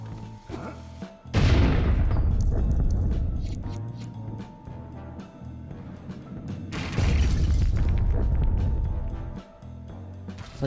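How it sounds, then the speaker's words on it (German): A bank vault is blown open in LEGO City Undercover, giving two loud booming blasts with crackling debris, each rumbling off over several seconds. "Es hat gut geknallt."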